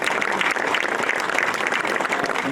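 Audience applause at a ribbon-cutting event at the St. Clair Inn, a dense steady wash of many hands clapping close and loud throughout, with no voices over it.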